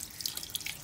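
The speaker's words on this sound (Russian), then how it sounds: "И забортная вода пошла." Raw sea water from the cooling system of a Volvo Penta D3 marine diesel flows out, a faint trickling and dripping splash with small bright droplets close by.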